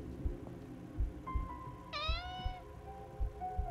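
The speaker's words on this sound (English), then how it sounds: "Leave the cat." A cat in the game Copycat lets out a single clear, rising-then-falling meow partway through, heard close over faint low thumping background noise with no talk.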